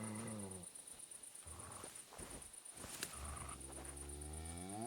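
A dog in Kingdom Come: Deliverance II growls and barks in a medieval setting, deep rumbling snarls with a few sharp barks, close and steady against a high-pitched tonal background.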